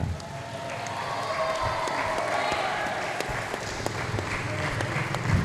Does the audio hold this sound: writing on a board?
no